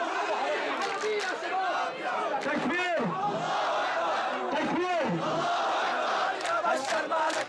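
A crowd at a street demonstration in Syria chants and shouts, with one man bellowing rising calls that the mass of voices answers in loud waves against a constant roar of chatter.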